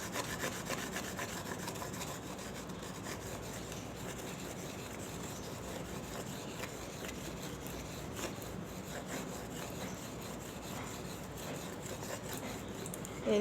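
A stone is rubbed back and forth over a paper-pulp table surface, giving a continuous gritty scraping that runs steadily throughout at close range.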